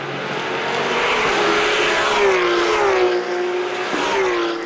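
Race cars, among them a Porsche 991 Cup, run on the Val de Vienne circuit, heard as a loud, continuous engine drone that rises and falls in pitch as the cars shift and pass.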